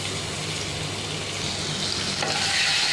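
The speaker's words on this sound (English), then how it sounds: "So once the oil is heated properly, I'm going to add this garlic and chili paste." Garlic and chili paste fries in hot oil in a wok, giving a loud, steady, close sizzle with faint stirring scrapes and no talking.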